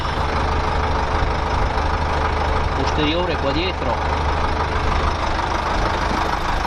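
A steady, low engine idle from a 1969 OM Lupetto vintage bus rumbles throughout, with someone speaking briefly partway through.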